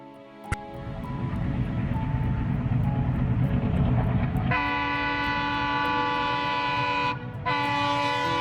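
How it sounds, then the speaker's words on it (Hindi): A train pulls into a railway station at night with a steady heavy rumble of wheels and cars, then a long, loud horn blast sounds near the end. "रात के तकरीबन 11 बजे ट्रेन आरव के गांव के सबसे नजदीकी रेलवे स्टेशन पर पहुंचती है"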